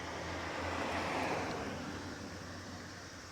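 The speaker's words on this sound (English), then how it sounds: "there's really fast flowing water under these drains" Fast-flowing water rushing beneath street drains in Japan, a steady broadband roar heard from close by and slightly fading toward the end.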